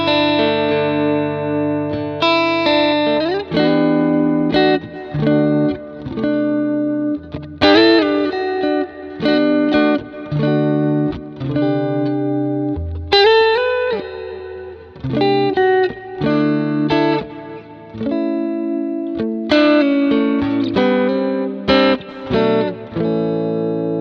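A clean electric guitar through two combined Matchless amp models on a Quad Cortex plays chords and picked notes with a full, slightly gritty tone and light reverb, alone with no talking.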